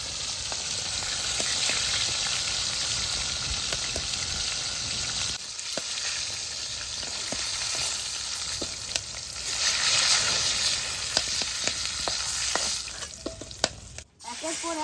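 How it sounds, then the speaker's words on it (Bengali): Big catfish pieces fry two at a time in a pan of oil for a Bengali village-style curry, a dense continuous sizzle with occasional pops and stirring scrapes, close and steady throughout. "একের পর এক সব মাছগুলোকে এই যে আস্তে আস্তে দুটো দুটো করে ভেজে দিচ্ছি।"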